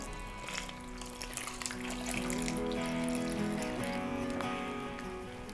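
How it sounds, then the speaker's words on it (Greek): Water pours steadily into a bowl, one liter of it, in a kitchen while grated potatoes are being prepared, a close, continuous gushing stream that swells slightly midway before easing off. "Ρίχνω 1 λίτρο νερό."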